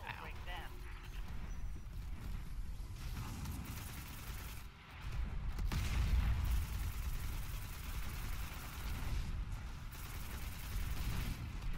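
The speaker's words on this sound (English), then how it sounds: "We felt those explosions from here, but we're still standing." Deep booming explosions and scattered gunfire from Destiny 2 rumble steadily, with one heavier low blast midway, while voices talk over the action.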